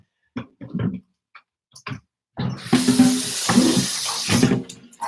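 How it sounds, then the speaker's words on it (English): A few light clinks and knocks at a sink give way to a tap gushing water, with a steady, close splashing stream as something is rinsed out. "I need to rinse this out."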